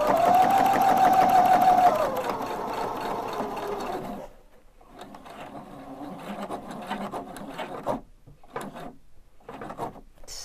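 An Opal 670 sewing machine sews around a lavender pouch in a loud, continuous mechanical hum for about four seconds, then stops, followed by quieter handling and rustling of the fabric.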